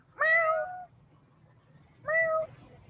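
A cat meows twice, close and clear, each call about half a second long with a pause between, over a quiet low hum.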